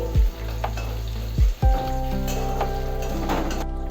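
Cumin, dried red chilli and bay leaf dropped into hot fish oil in a Bengali home kitchen, a steady sizzle broken by a few sharp spatters and bursts as the spices hit, with light utensil clinks.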